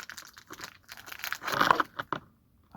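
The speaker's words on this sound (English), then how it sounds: "I gotta pull the price sticker off" A price sticker is peeled off a crystal with a run of close, crackly tearing and crinkling sounds that swell in the middle, then end in a brief silence.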